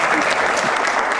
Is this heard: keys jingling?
no